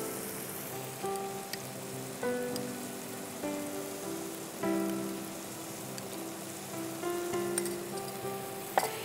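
Ginger-garlic paste hitting hot oil in a pan with fried prawns gives a soft, steady sizzle and crackle, broken by a few clinks of a utensil against the pan. No one speaks.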